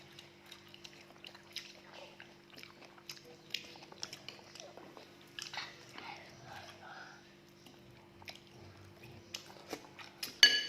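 Close, quiet biting and chewing of food, with soft crunches and wet mouth sounds scattered across the stretch while a person talks intermittently.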